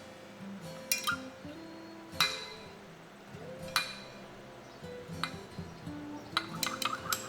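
Bait-making plastic being stirred in a cup, giving sharp clinks and taps at irregular intervals, fairly close and alone, with some faint background tones.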